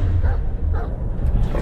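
A voice actor imitates a dog for the Black Myth: Wukong video game, producing short barking and yipping bursts that stay close and fairly loud throughout.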